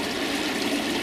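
Water pushed by a koi pond filter pump through a UV unit and back into the pond, a steady, close hiss of flowing, trickling water with no pauses.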